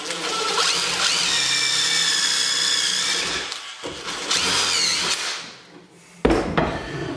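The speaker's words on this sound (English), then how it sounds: "drilling the hole in this part really works out well for me" A power drill drills into wood for kitchen cabinets, whirring steadily for several seconds, pausing briefly, then spinning up again, with a sharp knock near the end.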